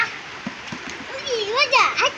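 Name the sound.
children splashing water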